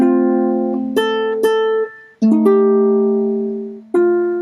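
Several chords from the Hawaiian song Kanaka Waiwai, one with an added 7th, strummed on a guitar, each ringing out and decaying before the next, with a short pause midway; clean, close and unaccompanied.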